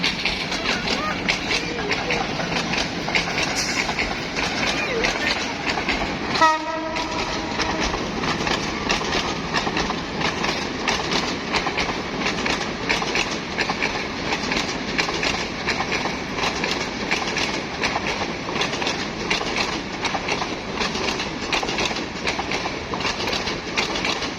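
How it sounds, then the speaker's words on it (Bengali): A train rolls past at close range, with a steady, continuous rumble of rail cars and clickety-clack running the whole time and a sharper burst partway through. Faint talk sits underneath. "যে ট্রেন আসতেছে দেখেন"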